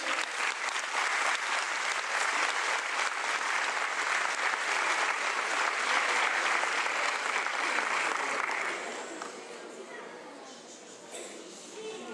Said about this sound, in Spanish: Un cariñoso aplauso para estes niños.